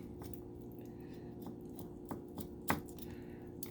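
A knife working along raw chicken thigh meat during deboning at home, giving soft, faint squishy cuts and slicing sounds with a couple of slightly sharper scrapes, close up against a low steady background hum.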